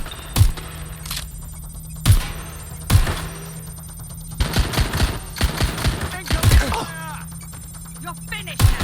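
Gunfire in the game Watch Dogs Legion, loud bursts of rapid shots and single heavy cracks spread across the scene, with shouting voices and speech between and over the shooting.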